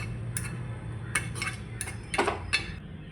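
Ladle and metal tools clinking against a paniyaram pan while pouring sweet rava paniyaram batter, a few short sharp clinks spaced out over a low steady hum, no talking.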